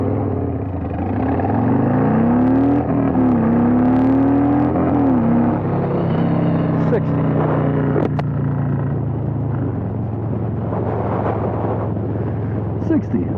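Harley-Davidson Road King Special motorcycle accelerating hard from a stop toward 60 mph, engine pitch climbing through first gear, dropping at the shift and pulling steadily in second, close and loud with wind noise.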